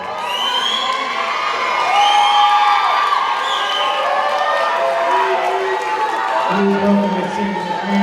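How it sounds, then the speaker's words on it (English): A crowd at a 2019 high school graduation ceremony cheers loudly, with whoops, children shouting and a steady wash of voices and clapping that holds strong throughout. "Congratulations, you can start cheering, clapping."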